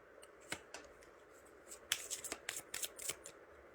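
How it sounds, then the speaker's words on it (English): A deck of tarot cards is shuffled and cards are pulled, producing soft riffling flicks and brisk papery slaps close by and fairly quiet, with no speech. "let me pull up a few more cards"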